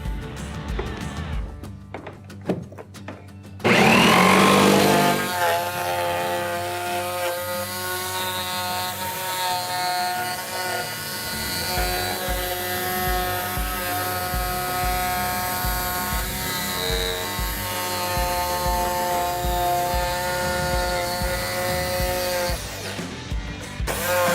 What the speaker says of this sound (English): Now I'm ready to begin my cut with the jigsaw.